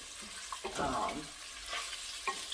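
Sausage browning in a soup pot, giving a soft, quiet sizzle with a few stirring scrapes and clicks over about two and a half seconds, close and low in level.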